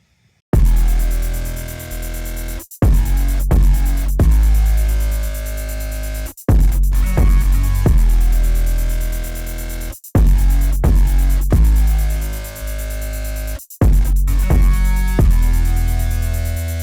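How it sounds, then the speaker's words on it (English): A looping beat with crisp two-step hi-hat ticks over heavy bass hits and a deep sustained low end, repeating in steady two-step bars, loud and upfront. "what felt best was just the two-step hi-hat. And so that sounds like this."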